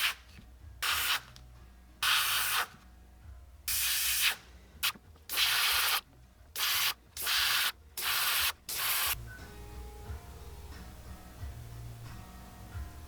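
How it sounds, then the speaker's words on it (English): An Iwata Micron airbrush sprays paint onto a walleye crankbait in a series of short, close hissing bursts about a second long each, then stops, leaving quiet room tone. "got a new airbrush, by the way. This is the Iwata Micron."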